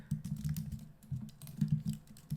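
Typing on a computer keyboard, quick irregular clusters of soft key clicks, close but quiet, with brief pauses between bursts and no talking.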